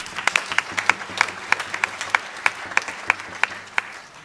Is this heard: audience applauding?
yes